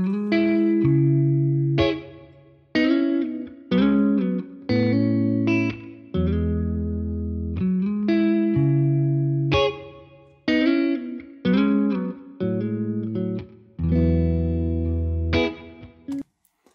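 Electric guitar played through an Orange amp simulation with chorus, delay and reverb. Chords and melodic phrases ring out in repeated strummed bursts with lush, effected sustain, loud and up close for the whole passage with no voices.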